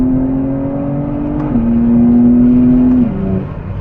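BMW G80 M3 with exhaust valves open and a non-resonated midpipe, revving loudly up close in a sustained droning climb with a brief rise and drop, no talk.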